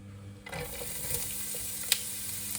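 An onion drops into a hot pan for a home-cooked curry and starts frying with a steady, close sizzle, broken by a few stirring scrapes and one sharp tap against the pan.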